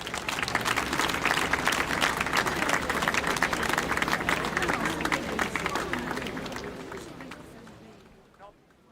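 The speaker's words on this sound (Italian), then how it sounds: "Applauso per Soscorriolos di Neoneli." An outdoor festival crowd in Quartu Sant'Elena applauds the group Soscorriolos di Neoneli, thick sustained clapping mixed with crowd murmur that holds strong for several seconds, then thins and fades out toward the end.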